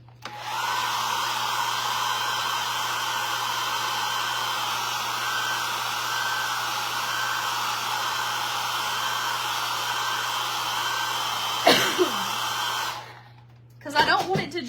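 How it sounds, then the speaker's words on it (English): A blow dryer drying paint on a craft piece, a loud steady whooshing roar held for about thirteen seconds before it is switched off, followed by brief handling noise. "Let me blow dry this."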